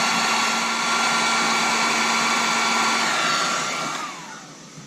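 A heat gun blows steadily while heating blue solder seal connector sleeves on a Yamaha YZF600R Thundercat, a loud, even roar close by that eases off near the end.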